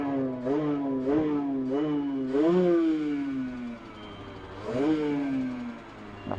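A Rieju MRT 50 two-stroke 50cc motorcycle engine revs repeatedly, short rising blips followed by longer falling runs as revs drop, a ringing, buzzy tone heard close and loud with no talk.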